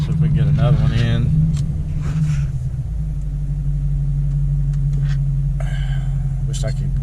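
A 2013 Dodge Challenger with the 5.7 engine pulls hard from a dead stop in 31-degree weather, its deep rumble rising through a rev and then settling into a heavy, continuous drone, heard from inside the car.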